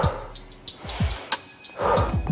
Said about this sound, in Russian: дыхание будет таким образом